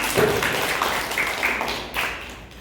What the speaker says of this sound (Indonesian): Berikan tepuk tangan dulu untuk teman kalian.